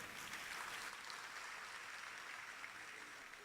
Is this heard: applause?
yes